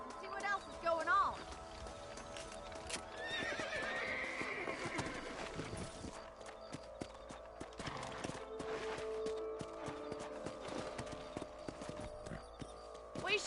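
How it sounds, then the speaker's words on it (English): Horses whinny and trot in the western video game Red Dead Redemption, with clip-clopping hooves and neighs over the game's ambience, moderately close, while voices speak at times. "Let's get back on the horses and see what else is going on."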